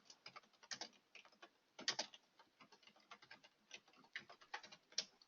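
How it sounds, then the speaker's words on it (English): Quiet, fast tapping of keys on a computer keyboard as a command is entered, irregular clicks with a few sharper strokes, close and alone. "So let's type it in."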